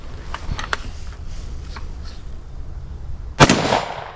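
Gunfire at an outdoor shooting range: a few sharp, moderately distant shots early on, then a louder, closer blast with a short ringing tail near the end, over steady background noise.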